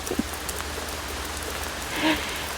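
Rain falls during a rainstorm as a steady, faint hiss over a low hum, with a brief tonal sound near the end.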